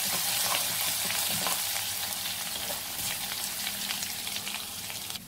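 Crushed ginger and garlic fry in hot oil for a spinach dal, a constant crackling sizzle with a few stirs, fairly quiet and unbroken by speech.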